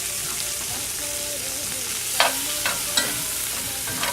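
Garlic, ginger and red peppers sizzle steadily in a hot pan, and a few crisp scraping strokes of stirring stand out during the second half.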